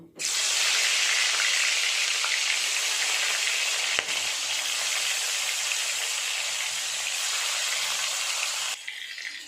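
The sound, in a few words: frying small fish in hot oil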